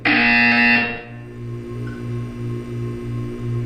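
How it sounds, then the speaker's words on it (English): A steady electronic buzzer from the Portal 2 video game pulses in a regular on-off rhythm, a few evenly spaced beeps following a louder initial tone, with no talking. "You will hear a buzzer."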